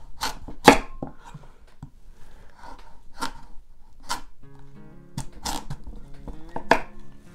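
A knife rocks through a kabocha squash, making a series of close, crisp cutting thuds and crunches with irregular gaps between them. Some quieter scraping is heard between the louder strokes.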